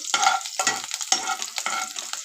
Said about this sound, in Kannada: ಮೆಣಸಿನ್ಕಾಯಿ ಸ್ವಲ್ಪ ಫ್ರೈ ಮಾಡ್ಕೋಬೇಕು